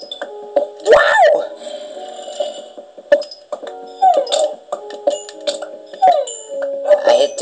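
Dogs whimpering and letting out short howls and yips, several cries rising and falling over a steady hum, with faint talk mixed in.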